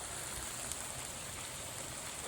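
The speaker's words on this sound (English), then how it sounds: "It's raining." Steady rain falls on a cold, windy evening at a campground, a constant soft hiss of drops with no voices and no breaks.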